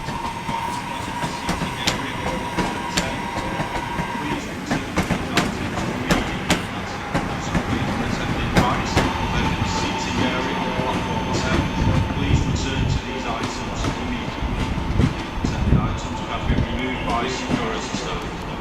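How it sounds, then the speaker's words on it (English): A Northern class 323 electric unit, number 323235, sits and moves at Manchester Piccadilly station, with a steady tonal hum and rumbling wheel noise echoing under the platform canopy and scattered clanks throughout. "here we have the 12:45 northern service to Stoke-on-Trent, worked by"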